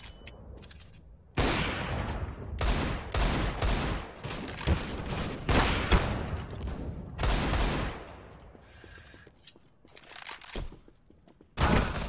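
Rapid bursts of gunfire in the CS:GO shooter game, loud clustered volleys and single shots coming in waves, with quieter gaps between the exchanges.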